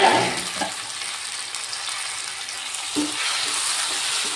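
Chopped tomato frying in oil in a pan for a Telugu home-style curry: a steady, close sizzle that continues throughout, with occasional stirring scrapes and no talk.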